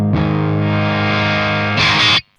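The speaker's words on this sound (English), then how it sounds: "that's this guitar with sort of clean, broken up tones" An electric guitar rings out a sustained, crunchy overdriven chord, then a second strummed chord near the end before it cuts off abruptly into silence.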